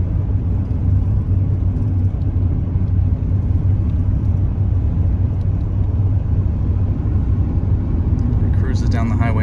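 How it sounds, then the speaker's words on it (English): A 1992 Ford F-250 XLT 4x4 pickup cruising on a highway at just under 50 mph, heard from inside as a loud, steady low rumble of engine and road noise that stays even throughout. "We're cruising just shy of 50 miles per hour."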